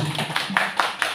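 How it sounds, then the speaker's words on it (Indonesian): A few distinct hand claps, about four or five evenly spaced sharp slaps, ring out close by during a brief round of applause for Pak Rosid at a school gathering. "Tepuk tangan untuk Pak Rosid."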